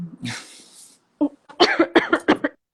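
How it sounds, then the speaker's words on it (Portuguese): A single harsh cough from someone choking, near the microphone, followed after a pause by a quick series of short coughing bursts and throat sounds. "A pessoa tossiu porque não tem resposta"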